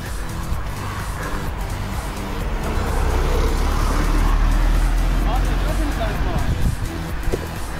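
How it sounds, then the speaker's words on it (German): Cars passing on a road beside a longboarder, a steady traffic rumble that swells into a louder pass in the middle, heard under background voices. "Scheiß Autos."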